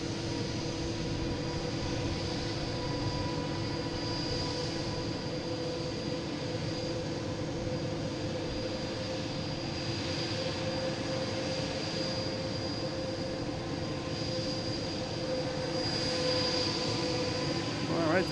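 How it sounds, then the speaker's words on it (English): A Delta jet airliner takes off from Boston Logan bound for Philadelphia, heard as a steady, distant engine drone with a high whine, constant and unchanging throughout. "Next taking off is Delta."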